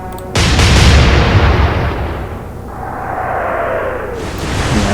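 Heavy warship guns open fire in the naval game Atlantic Fleet, one massive booming salvo followed by a long rumbling roar with a whistling descent of shells, loud and alone over a windy sea.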